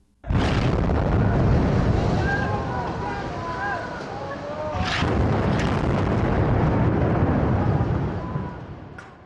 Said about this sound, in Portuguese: Essa explosão é de um prédio bombardeado por Israel em Gaza em 2021